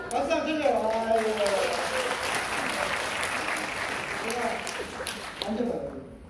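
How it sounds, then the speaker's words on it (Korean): Audience applause fills a Korean talk-show style gathering, steady broadband clapping sustained throughout with voices talking and laughing over it near the start and end. "박수 한번 쳐줘요"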